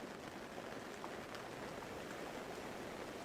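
Steady rain falls evenly and softly, a dense, unbroken patter of drops at a constant low level with no voices.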